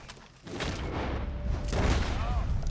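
Gunfire in a GTA-style video game, a burst of muffled booming shots with a rising rumble near the end, loud and close, over game sound with a voice.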